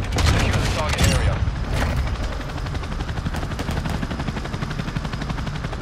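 Chopper gunner helicopter in Modern Warfare 2 firing from above on a multiplayer map, a dense opening volley of rapid gunshots that eases into a steady rattling rotor drone, with brief voice sounds mixed in.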